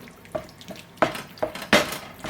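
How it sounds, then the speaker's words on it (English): A pan of tomato sauce simmering on the stove, heard as soft bubbling pops and sharper spattering bursts at irregular intervals, close and without voices. "And just simmer this down for maybe 20 minutes."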